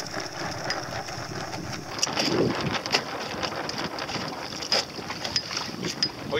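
Steady wind rushes and buffets the microphone while sailing an Optimist dinghy on open water, a continuous broadband roar with small gusty swells.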